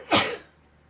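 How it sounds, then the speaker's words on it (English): A person lets out a single sharp sneeze nearby, a brief forceful burst that fades quickly into quiet. "Oh, I'm gonna sneeze."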